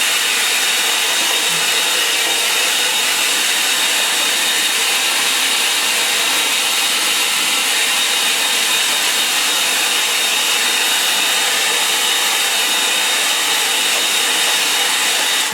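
A hair dryer blows steadily at close range over a watercolour painting of an East Anglia coastline, a continuous loud broadband whoosh holding unchanged throughout with no voices.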